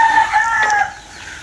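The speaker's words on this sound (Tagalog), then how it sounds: "Basta Peking duck maingay talaga" Loud, nasal Peking duck calls rise and fall in harsh, drawn-out honks for about a second, then fade to quiet background.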